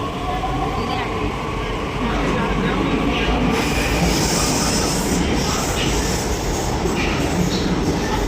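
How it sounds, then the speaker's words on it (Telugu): Delhi underground metro train running, a loud steady rumble and rail roar with a brighter hiss rising midway, voices talking over it throughout. "ఈరోజు మేము ఫస్ట్ టైం మెట్రో ట్రైన్ ఎక్కినాం. అది అండర్ గ్రౌండ్ మెట్రో ఢిల్లీలో."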